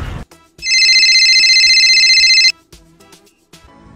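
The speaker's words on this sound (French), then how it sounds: "depuis que je vois ton téléphone en train de sonner" A mobile phone ringtone for an incoming call sounds loud and close for about two seconds, then cuts off, leaving quiet room noise.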